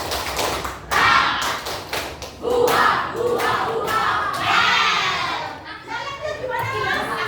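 A classroom of children chants the Indonesian clapping cheer 'tepuk semangat Velocity', mixing rhythmic group claps with loud young voices in a lively, busy room.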